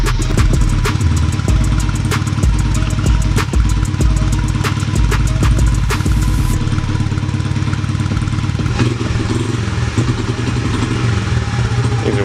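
A Honda CRF50F dirt bike engine runs with the choke on, loud and close, a steady rapid chatter that keeps going without a break for over twelve seconds.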